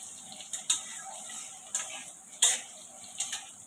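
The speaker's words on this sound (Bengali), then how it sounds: "আলুটা ভেজে নিচ্ছি, কেন পনির হবে তো, পনির কারি হবে, একটু আলু দেব।" Potatoes frying in a pan for paneer curry give a soft, steady sizzle, with a few sharp ticks and clinks from stirring at irregular moments, all fairly quiet.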